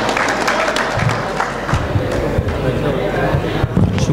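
A mushaira audience at an All India poetry evening applauds to welcome a guest poet, dense, steady clapping with crowd noise that fills the whole moment at a loud level.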